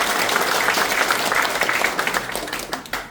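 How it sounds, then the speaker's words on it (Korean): Audience applause welcoming guests at a joint policy forum of the Daejeon city council, steady dense clapping from many hands filling the room for about three seconds before thinning slightly at the end. "우리 모두 환영하는 뜻에서 반갑다는 큰 박수 한번"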